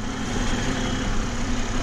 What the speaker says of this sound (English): Got the engine running at the moment.